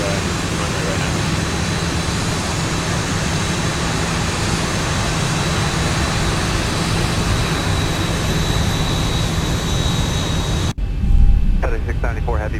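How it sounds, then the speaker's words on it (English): Zibo Boeing 737 in X-Plane 11 taxiing toward the runway at Juneau, Alaska, a loud, steady jet engine whine and rumble filling the scene, then cutting abruptly near the end to a quieter cabin with faint talk. "On takeoff, taxiing to the runway right now."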